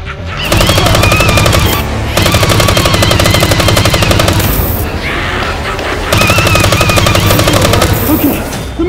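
Nerf blasters fire in rapid bursts, a loud, dense mechanical rattle of darts in two long volleys with a brief pause between, close and unbroken by speech.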